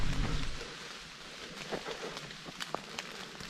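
Rain falls outdoors on a hike near King Mountain, a steady hiss with scattered sharper drop impacts and a low rumble at the start, moderately close.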